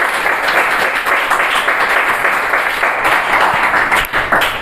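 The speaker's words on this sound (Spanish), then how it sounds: "Den un aplauso al Señor en esta hora." A church congregation applauds during a Spanish-language sermon, a dense, steady wash of many hands clapping at close range that fills the whole stretch at even loudness, with no talk over it.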